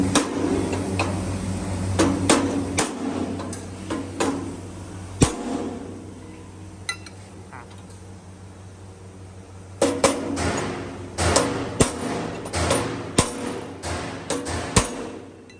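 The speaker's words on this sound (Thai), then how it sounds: "ใช้เครื่องมือพิเศษ ในการตอก เพื่อให้ริมมันติดกัน" A wedge is hammered into the rim of a multipurpose chopper machine in a series of sharp metallic strikes, sometimes in quick bursts, with a quiet pause midway before a rapid run of blows.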